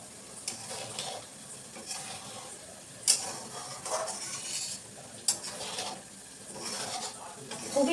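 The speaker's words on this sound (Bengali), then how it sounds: "একটু পরপরই ভালো করে নেড়ে নিতে হবে যাতে নিচে লেগে না যায়।" Cream simmering into homemade ghee is stirred in a pot, giving soft, intermittent scraping and stirring strokes over a faint steady sizzle, with a couple of sharper clinks of the spoon against the pan.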